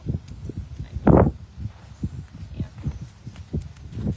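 A Mustang horse shifts and steps on the ground, a few soft irregular hoof thuds with one louder knock, close by and otherwise quiet.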